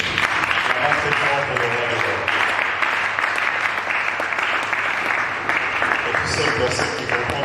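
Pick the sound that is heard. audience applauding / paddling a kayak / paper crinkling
audience applauding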